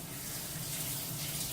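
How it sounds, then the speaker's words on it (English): Cold tap water runs steadily into a sink while salad produce is washed, a soft, even, continuous stream close by with no talk over it. "Cold water."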